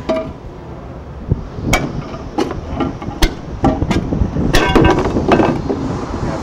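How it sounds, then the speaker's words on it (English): A HYTILE tile cutter is tapped repeatedly to snap a tile along a chalk line, sharp close hammer-like strikes at an irregular pace, ending in the crack and clink of the tile breaking. "5 taps and breaks right up across the chalk line"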